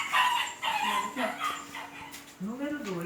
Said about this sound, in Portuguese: Cachorro chorando de tristeza.